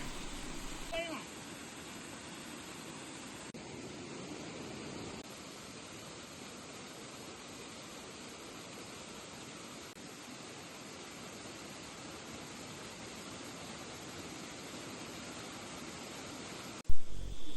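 Water pours down from above in a steady, broadband rush while two dogs, Sakki and Shen, are bathed outdoors, continuing evenly for many seconds before a sudden loud knock at the end.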